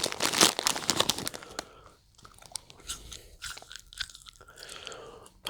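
Close, crisp crunching and chewing of a chewy Mexican snack, with loud bites at the start and then softer irregular mastication sounds.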